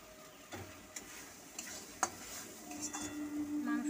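Masala spice paste fries in a pan while being stirred, a low steady sizzle broken by spoon scrapes and taps that grows a little louder toward the end, with no talking.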